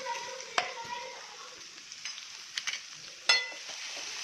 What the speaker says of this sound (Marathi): बारीक केलेला कांदा परतण्यासाठी टाकला आहे